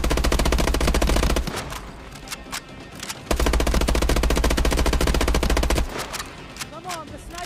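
Loud rapid automatic gunfire in the shooter game Call of Duty: Advanced Warfare rattles in two long bursts separated by a brief pause, with scattered in-game effects after them.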